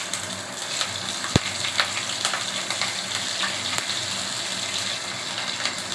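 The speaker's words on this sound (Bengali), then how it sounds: "মশলাগুলো খুব ফাটছে" Fennel seeds, chopped ginger and green chilies crackling in hot oil, a close, steady frying hiss broken by sharp irregular pops and snaps, one loud crack standing out early, with no voices.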